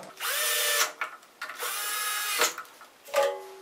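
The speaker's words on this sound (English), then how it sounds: "And then just screw it in place." Power drill driving screws into a small wood block, three loud whirring bursts close up, each rising and stopping with short pauses between.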